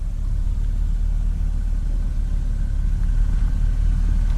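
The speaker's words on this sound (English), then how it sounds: "here comes a car" A car rumbles along a quiet forest road near a campsite, a steady low engine drone that stays close and loud throughout.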